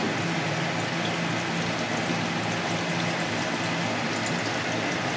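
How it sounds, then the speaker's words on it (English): Water bubbles vigorously as air is blown through a fitting on a sailing boat, a constant, dense gurgling and bubbling wash that runs loud and unbroken throughout. "You can definitely hear vigorous bubbles when you do that."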